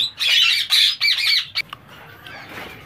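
A ringneck parakeet lets out several loud, harsh squawks in quick bursts close by, then falls quiet.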